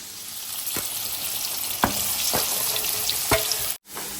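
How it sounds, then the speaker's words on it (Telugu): Small freshwater fish frying in hot oil give a steady close sizzle with a few sharp crackles and pops, ending in a brief drop-out near the end. "నెత్తలు అయితే నేను ఆయిల్లో వేయించేసాను"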